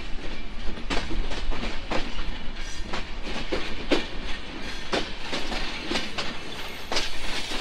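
The Kapotaksha Express intercity train rolls from Rajshahi toward Khulna, with a steady loud rumble and rhythmic clickety-clack of wheels over rail joints, heard close from inside the carriage.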